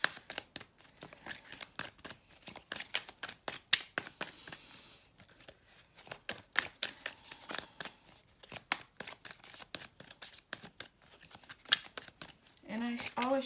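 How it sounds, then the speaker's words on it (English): Tarot cards being shuffled by hand before a daily reading, giving a long run of rapid, dense riffling and flicking bursts, close and fairly faint, with a brief pause near the end and no talk over it. "And I always shuffle the cards before I start the reading, okay?"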